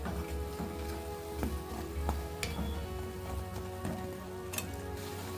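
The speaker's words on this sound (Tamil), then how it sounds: "எண்ணெய் கொதிக்கிறது வந்து கொஞ்சம் கண்ட்ரோல் ஆகி நல்லா வெந்ததுக்கு அப்புறம் நம்ம எடுத்துக்கலாம்" Bajji fritters frying in hot oil make a steady, close crackling sizzle with scattered sharp pops and ticks throughout.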